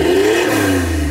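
Citroën C6 V6 with a full exhaust line revving hard up close, a loud, raspy, sustained engine note that climbs briefly and then eases.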